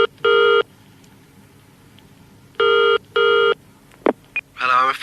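A telephone being dialled and ringing: short bursts of electronic tone, two close together, then brief clicks and a rising warble at the end, loud and near, with no talk.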